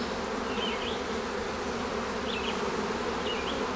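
Honey bees buzz steadily during a transfer between hives in a division-fusion of colonies, a dense, even swarm hum filling the air close by, with faint higher whines of single bees passing now and then.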